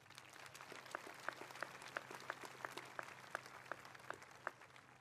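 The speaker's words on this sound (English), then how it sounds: "let's give one more round of applause for our generational graduates" Graduation audience at the Brock High School 2022 commencement applauding its senior class, steady crowd clapping throughout with sharp individual claps popping out at a regular pace over the dense wash of hands.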